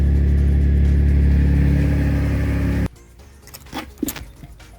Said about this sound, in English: Got ignition. Let's go, Supra. Oh, starts right up.